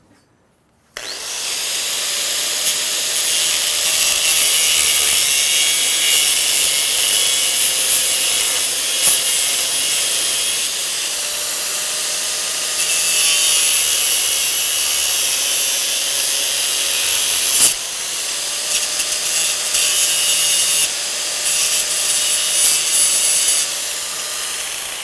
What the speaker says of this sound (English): So you can see with the cutoff wheel, I've kind of clipped that top and it's made kind of a jagged edge